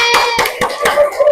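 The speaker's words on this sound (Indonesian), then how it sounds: "Beri tepuk tangan untuk kelompok 4." Fourth-grade classmates clap for a group in a school lesson, a short ragged run of hand claps, close and loud, with a few distinct beats and no talking.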